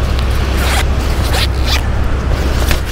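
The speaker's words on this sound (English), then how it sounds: "Got to get to the zipper." A backpack zipper rasps open in several quick pulls, loud and close, with a steady background hiss throughout.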